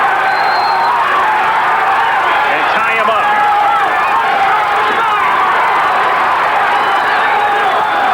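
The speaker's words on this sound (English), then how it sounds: "Crowd chanting Holyfield as Tillman tries to bore in" A boxing arena crowd at an Evander Holyfield versus Henry Tillman fight roars and chants Holyfield's name in a dense, steady wall of voices, with a commentator talking over it throughout.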